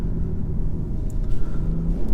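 A BMW M340i Touring's engine revs up close with a low, steady rumble, swelling slightly in short surges over a couple of seconds, with no talking.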